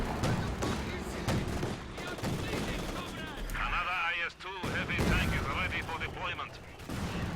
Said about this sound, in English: Oh my god, that mortar shell so close to wiping this